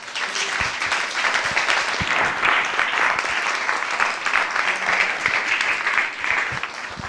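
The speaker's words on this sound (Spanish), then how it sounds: "Le damos un fuerte aplauso al Señor" A church congregation bursts into loud, sustained applause, a close and dense clatter of many hands clapping steadily with a few louder individual claps standing out.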